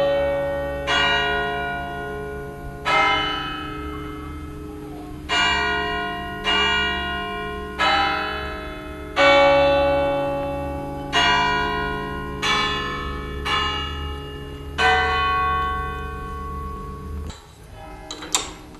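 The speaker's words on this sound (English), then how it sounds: "hold a bell-ringing competition in this famous church in Shandon" Large church bells ring out at the church in Shandon during a bell-ringing competition, each strike loud and resonant with long ringing decay, sounding a slow melodic sequence of about eight tones.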